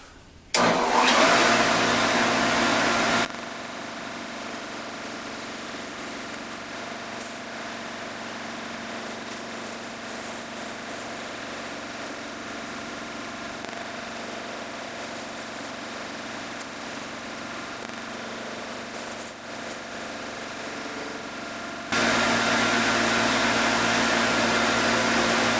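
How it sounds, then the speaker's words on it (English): A power sander works over plexiglass with a continuous, even whirring hum. It is louder for the first few seconds, settles to a lower steady level, then rises again near the end. "And then we'll sand it."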